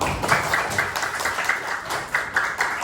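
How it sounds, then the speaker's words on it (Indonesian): Schoolchildren in a classroom lesson applaud their classmates, producing a moderate, somewhat uneven patter of clapping hands with distinct individual claps. "Tepuk tangan dulu buat teman-temannya."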